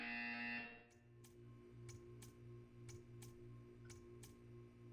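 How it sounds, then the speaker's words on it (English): Buzzer from the video game Portal 2 in a test chamber: a loud tone at the start, then a series of short regular ticks or pulses over a steady low hum, with no one talking. "You will hear a buzzer"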